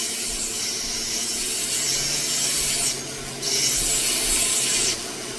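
A rotary tool fitted with Nova polishing points works on a windowed fire agate stone at light pressure, a steady close grinding rub with brief breaks where the tool lifts off, no talking.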